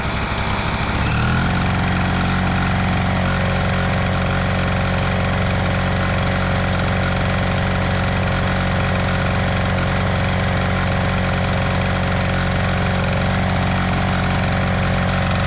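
Honda EU1000i portable inverter generator running steadily after a carburetor rebuild, a loud, even engine drone close by with no variation, after a brief rough start in the first second and no voices.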